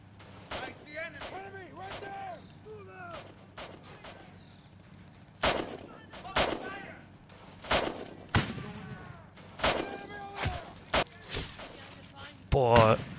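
Gunshots in the Easy Red video game, a WWII-style shooter in alpha, with sharp, separate shots and short bursts spaced across the clip, some loud and close, over a low rumble.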